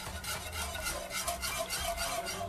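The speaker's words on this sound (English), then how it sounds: "It says 5 minutes, whisking continuously." A whisk scrapes and swirls continuously through low carb eggnog in a pot, a rapid, close, rhythmic stirring clatter with no talking.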